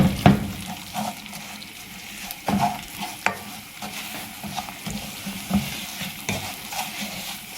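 Semolina roasts in hot oil in a wok for halwa, sizzling softly while a spoon scrapes and stirs in irregular strokes, close and clear with no talk.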